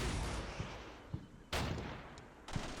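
LAW rockets fired in a military video game battle, a few sharp launch blasts spaced roughly a second apart over a continuous rumbling backdrop of distant gunfire, with a louder burst near the middle and another at the end.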